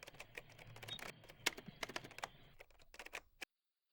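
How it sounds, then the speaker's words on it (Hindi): Java code being typed on a computer keyboard, quick irregular clicking keystrokes close up and fairly quiet, ending abruptly. "फिर मैं सिमिलरली मेन मेथड को टाइप करूँगा।"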